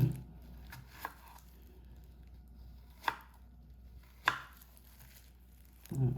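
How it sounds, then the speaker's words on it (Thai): Eggplant is sliced with a knife for Isan-style steamed fish curry, a few separate sharp chops landing on a board at irregular intervals against quiet room tone. "หั่นมะเขือ แช่น้ำเกลือวางน้ำเกลือ จะได้ไม่ดำ"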